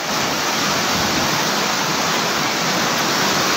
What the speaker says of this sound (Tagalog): Yan po, lalong lumakas ang baha.